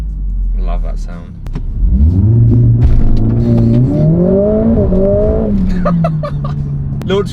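A BMW M140i launches hard on launch control, its engine revs climbing loud and close with rising pitch through the gears, a gear shift briefly dipping the tone before it pulls again, with a voice speaking over the start and end.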